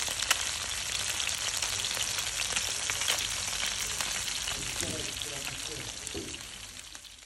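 Whiting fish sizzle and spit steadily in a hot pan over high heat, a dense, continuous frying hiss with crackles throughout, fairly close and loud, with a few faint voices underneath near the end.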